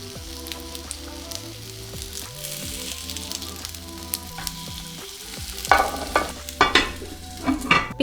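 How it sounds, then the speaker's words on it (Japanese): Vegetable burger patties shaped from a mixed vegetable base sizzle and fry steadily on a grill, with a constant crackling hiss, a low hum underneath and a few louder pops near the end. "こんな感じで混ぜ合わさったら、あとは成形して同じようにグリルしていきます"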